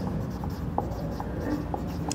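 Pen writing by hand during a biology lesson, a faint steady scratching with small taps and strokes, quiet and close, with no voice over it.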